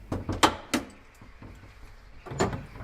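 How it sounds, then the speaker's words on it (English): A front door key turns in an old lock, giving a few close wooden knocks and metallic clunks with quiet pauses between them. "That turning, listening to it clunk in the door."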